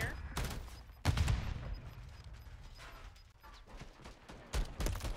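Shooter video game gunfire, with rapid bursts of shots coming in clusters at the start, middle and end, fairly faint, with a voice speaking briefly between bursts.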